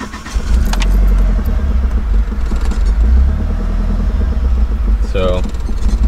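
A car fitted with a Wilwood clutch master cylinder and AEM fuel pressure regulator cranks and starts, then settles into a loud, steady idle close by, with someone speaking briefly over it.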